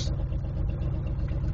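A 1977 Oldsmobile Delta 88 V8 idling roughly right after a cold start in winter, a close, steady low rumble with an uneven pulsing throb.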